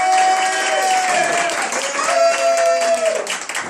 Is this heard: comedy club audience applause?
yes